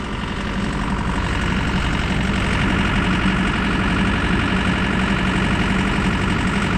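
A truck engine idles steadily with a dense, rumbling drone and faint knocking, loud and continuous with no voices.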